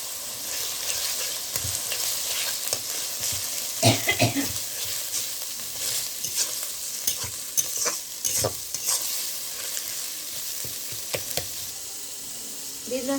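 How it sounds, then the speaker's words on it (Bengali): Garlic, ginger, cumin and coriander pastes fry in a pan while being stirred, a steady close sizzle broken by scraping spoon strokes and soft clanks, with no talk over it. "রসুন বাটা আদা বাটা জিরে বাটা আর একটু ধনে বাটা সব একসাথে দিয়ে ভালো করে কষিয়ে নেবো"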